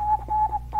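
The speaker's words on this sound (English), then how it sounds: "that's what Morse code is" An amateur radio repeater identifies itself in Morse code (CW): a steady high beep keyed on and off in short and long bursts, loud and alone.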